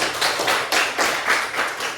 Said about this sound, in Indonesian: Tepuk tangan untuk Rika